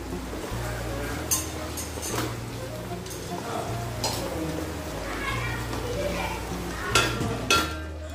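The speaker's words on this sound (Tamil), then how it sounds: "ஸோ எல்லாத்தையும் சேர்த்து நல்லா வதக்கி விடுங்க" Onions and chilies sizzle softly, frying in a pan for mutton biryani, with occasional stirring clatter, steady and moderately quiet, with a low background hum.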